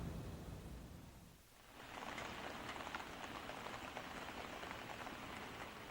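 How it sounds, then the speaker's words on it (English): Steady rain falling on a rainy day in Miyazaki, southern Japan, a dense patter of drops that dips briefly then returns stronger and closer, continuous and free of voices. "It's a rainy day in Miyazaki, South Japan."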